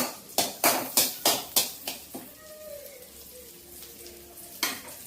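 A bay leaf and cinnamon bark dropped into melted butter for spicy Andhra chicken crackle in a run of sharp, rhythmic sizzling bursts, each fading quickly, then a quieter steady simmer with one final crackle.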